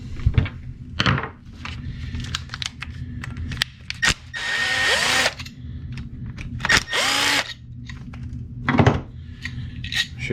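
A power tool removes screws from a Honda B series or D series distributor coil: short whining bursts of the driver spinning, mixed with clicks, thunks and metal handling, close and loud.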